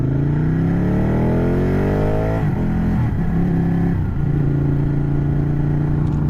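A car engine revving hard to about 6,800 RPM, then a clutch drop into gear, its rising whine cutting off and settling into a steady loud drone as the car pulls away.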